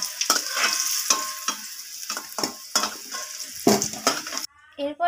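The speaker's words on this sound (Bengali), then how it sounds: "এরপর আমি তেলের মধ্যে কেটে রাখা গাজরগুলোকে দিয়ে দিলাম।" Cut carrots sizzle and spit in hot oil in a home cooking pan, with steady loud frying hiss broken by repeated sharp clinks and scrapes of a spatula stirring against the metal pan.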